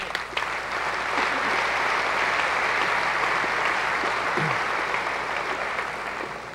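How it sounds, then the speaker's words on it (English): Sustained audience applause at an IBM conference session in Dubai, a broad, steady wash of clapping from a large crowd that holds even and loud throughout. "I think, a big applause"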